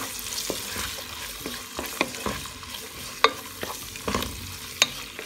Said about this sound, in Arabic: بقلل الفليفلة معهم كمان الفطر حركهم شوي